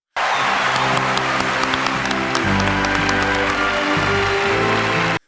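An Oscar ceremony audience bursting into applause and cheering: dense, loud, sustained clapping from a large crowd that starts abruptly and cuts off sharply at the end.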